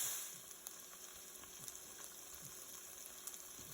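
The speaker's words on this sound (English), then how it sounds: "We're going to let that pork continue to cook." Pork cooks in a pan with a faint, steady sizzle and scattered soft pops and ticks, quiet and continuous with no talking.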